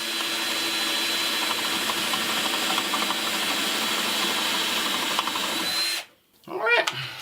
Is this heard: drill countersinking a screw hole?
yes